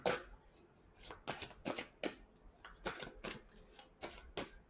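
A new, slippery deck of playing cards gets riffled and shuffled in a series of close, crisp bursts of flicking and snapping, about a dozen quick rhythmic rustles in a quiet room.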